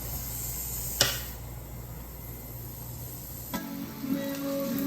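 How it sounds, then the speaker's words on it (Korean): Steady broadband sizzle of pork belly frying on a hot grill, crackling continuously with a couple of sharp pops and clinks. "삼겹살부터 올릴게"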